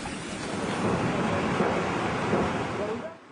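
Loud, steady roar of flood water rushing at the Son Barrage in Bihar, a continuous broadband churn that holds for a few seconds before easing slightly at the end.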